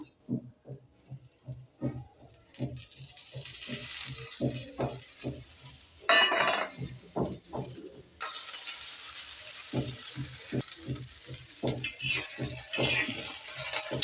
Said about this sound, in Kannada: ಈಗ ಅದೇ ಹಂಚ ಮೇಲೆ ಮೆಣಸಿನ್ಕಾಯಿ ಉರಿ ಹಾಕತ್ತೀನಿ ರೀ ಪಲ್ಯ ಮಾಡೋಕೆ